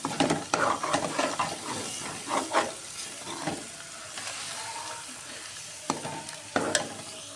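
Drumsticks (sohanjna) and potatoes frying in hot oil, a soft continuous sizzle under repeated close scrapes of a spoon stirring the pan, with sharper clinks near the end.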